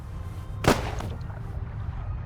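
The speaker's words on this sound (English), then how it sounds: "Gunshot. I know that." A single sharp gunshot in The Raven Remastered video game, one loud crack standing out over a low steady background hum, followed by a brief fading tail.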